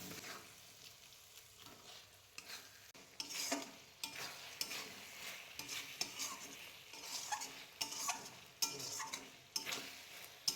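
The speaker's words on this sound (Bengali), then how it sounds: "তারপর এগুলোকে ভালো করে মিশিয়ে নেব।" Fried fish being stirred into chilli gravy in a pan for a home-style chilli fish, with a spoon scraping and clinking against the pot in repeated strokes over a steady low sizzle, close and alone.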